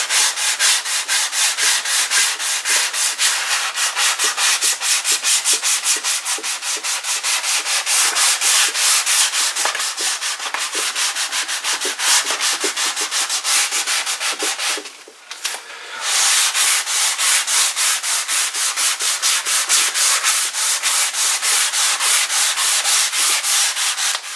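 Close, loud and continuous sanding of a PRS-style guitar body from a Coban DIY kit, with rapid back-and-forth strokes and a short pause near the middle.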